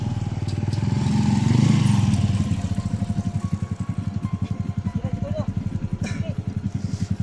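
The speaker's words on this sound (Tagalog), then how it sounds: "May motor, baka kalaban yan." A motorcycle engine idles close by in a pulsing, regular putter that swells briefly then settles into an even throb, with a voice speaking over it.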